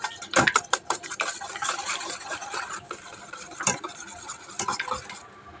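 Eggs and sugar whisked together in a bowl for Bombay toast, a spoon or whisk clinking and scraping in quick irregular strokes, close and fairly loud, with no talking.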